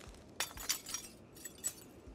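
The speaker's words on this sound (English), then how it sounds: "And remove broken glass." Broken glass being cleared from a window frame in the video game Project Zomboid, several quiet clinking, shattering crunches spaced irregularly over two seconds.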